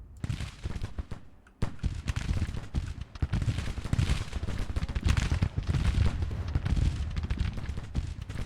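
Dense volleys of musket fire and booming artillery from a Civil War battle in the strategy game Grand Tactician roll on continuously and loudly, with a brief lull near the start before the crackling barrage resumes.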